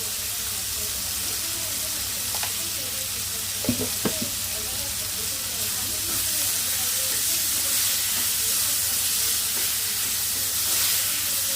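Tomatoes with salt sizzle steadily in a pan, a loud continuous frying hiss close up with a couple of brief knocks of a utensil partway through.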